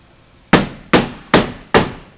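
A rubber mallet knocks a PolyJohn portable toilet's plastic roof down into position with four sharp, evenly spaced blows, close and loud, each with a short ringing tail.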